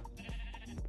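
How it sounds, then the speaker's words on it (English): Sheep bleat in Minecraft, two or three short, quiet, nasal calls in quick succession with no talking over them. "I hear sheep."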